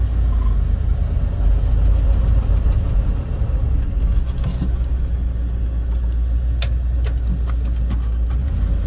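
A 1976 Chevrolet K5 Blazer Custom Deluxe with a manual transmission drives down the road with a loud, steady low engine rumble and road roar, plus a few light rattles and clicks near the end.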